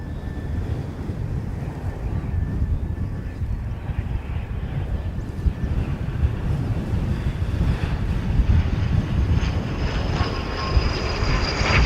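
A large airliner takes off from a runway, heard from a viewing mound as a steady, distant broadband engine roar mixed with wind noise on the microphone, swelling slightly louder toward the end.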